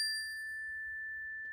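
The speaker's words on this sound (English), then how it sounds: "let's tone the bell in their honor" A single bell struck once, its clear ringing tone sustaining and slowly fading over a quiet background with no voices.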